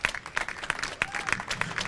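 Applause from a small crowd after a third-place youth baseball game, with irregular claps rising and falling in bursts close by, alone without talk.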